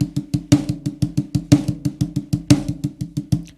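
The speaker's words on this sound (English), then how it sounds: "I play single strokes, and I accent on the number 1 of each grouping." A snare drum plays an even single-stroke roll in six-note groupings, the first note of each group accented so a louder hit recurs roughly once a second among steady, close, crisp strokes.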